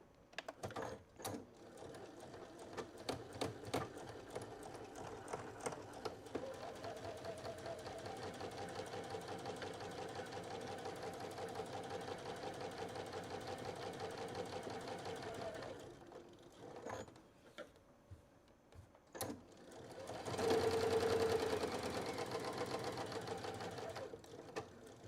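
A sewing machine stitches a tote bag in steady runs of rapid mechanical whirring, pausing briefly between passes and finishing with a faster, louder burst; quiet and close, without talk.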